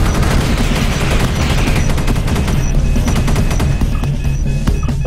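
Rapid automatic gunfire in the sci-fi shooter video game Space Beast Terror Fright, with dense bursts of loud sharp shots and clattering impacts continuing throughout, no talking.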